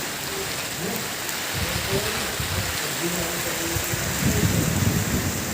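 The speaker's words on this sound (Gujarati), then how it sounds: "આવશે વરસાદ એટલે ઝીણો ઝીણો અત્યારે પડે છે" Steady hiss of light drizzle falling in sunshine with strong wind, soft patters and a faint low rumble underneath, continuous throughout.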